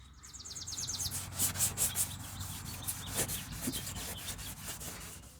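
Meguiar's restoration compound being rubbed by hand onto a car headlight lens, a close, soft scrubbing and rasping with quick back-and-forth strokes, fairly quiet and steady.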